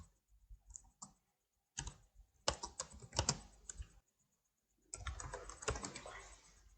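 Two sentences being typed on a computer keyboard: irregular bursts of close, crisp key clicks, with brief pauses between runs and a longer gap before the final stretch of typing.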